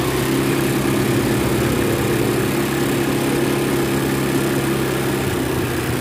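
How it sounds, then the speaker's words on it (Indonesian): A Honda Beat fuel-injected motorcycle engine idles steadily and loudly nearby, a continuous low throbbing hum with no pauses and no voices. "hidupkan motornya"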